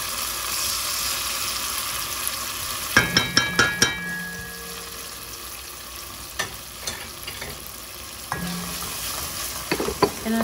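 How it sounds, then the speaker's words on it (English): Sofrito and recadito sautéing in a pan for Puerto Rican rice with Vienna sausage and corn, a steady sizzle broken by bursts of clinking utensil strokes against the pan around the middle and end. "And I'm just going to stir it up and just saute it up for a little bit."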